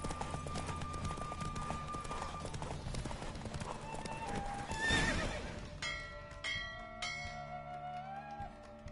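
A galloping horse in The Witcher 3 pounds along, then gives a loud neigh near the middle as the hoofbeats fade out, followed by ringing bell-like tones and quieter background.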